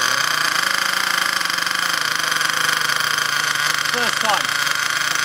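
An Ansmann Virus 2.0 RC car with a BigBlock nitro engine, newly run in, runs at a steady, loud buzzing drone throughout, with a person speaking over it.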